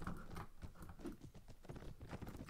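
Horse galloping in the 12th Century mod of a medieval battle video game, a steady clip-clop of hooves running under busy battle noise throughout.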